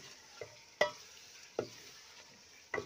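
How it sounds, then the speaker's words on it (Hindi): Meat browns in curry masala in a pot, giving a faint low sizzle broken by four distinct scrapes or clacks of a stirring spoon at irregular intervals. "गोश्त को हम अच्छी तरह जो है भून लेंगे"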